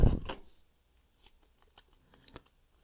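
Scotch tape being pulled off the roll and pressed onto a phone charging connector, starting with a sharp close rip followed by a few faint, brief crinkles and taps.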